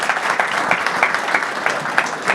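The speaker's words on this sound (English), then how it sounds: "Round of applause for our second discussion of the day." An audience at a commercial real estate panel on buying distressed assets applauds after the second discussion of the day. The clapping is steady and fairly loud, with dense overlapping claps throughout and no talk on top.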